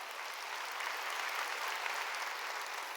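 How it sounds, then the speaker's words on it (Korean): Dense, steady applause from a large church congregation, loud and continuous throughout with no talking. "박수로 하나님께요"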